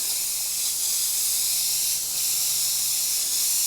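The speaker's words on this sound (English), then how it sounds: "I think that's spraying a lot better" An Iwata HP.TH airbrush sprays paint at about 50 PSI, giving a loud, steady, bright airy hiss that runs unbroken throughout with only a slight dip midway.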